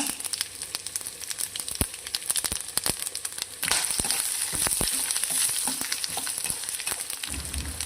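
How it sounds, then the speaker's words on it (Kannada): Whole spices (cinnamon, fenugreek, cumin, cloves and cardamom) frying in hot oil in a pan for vangibath, a steady close sizzle with scattered crackles and stirring scrapes that swells louder midway. "ಇಷ್ಟನ್ನು ಇದಕ್ಕೆ ಹಾಕಿ ಫ್ರೈ ಮಾಡ್ಕೊಳ್ಳೋಣ."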